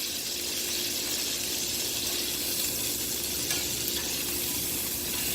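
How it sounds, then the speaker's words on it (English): Steak searing with butter in a hot pan, giving a loud, steady, bright sizzle and crackle that holds evenly throughout with no talking. "Adding a bit of butter in the middle of you cooking a steak, that helps to caramelize the surface of the actual steak."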